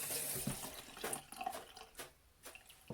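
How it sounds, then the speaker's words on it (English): Running tap water over hands sticky from making homemade grape molasses, a close, moderately quiet splashing flow that shifts and breaks up as the hands move under the stream. "Let me just rinse the gubbins off my hands"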